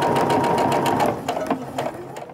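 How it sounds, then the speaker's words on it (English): A sewing machine stitches quilt pieces with a scant quarter-inch seam, running as a steady, close, fast-pulsing whir that slows and fades in the final moments. "So just go ahead and get that presser foot lined up with the line and start sewing down."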